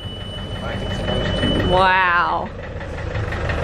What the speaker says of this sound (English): Yay, we have two engines.